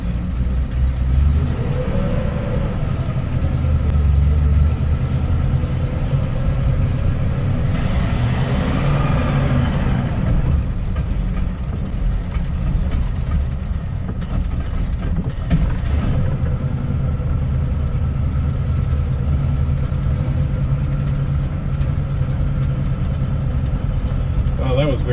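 A 1955 Pontiac Chieftain being driven in gear, its engine droning and revving loudly and steadily, with a brief rise in pitch as it shifts, then settling into a low, labored hum; people talk over it at times.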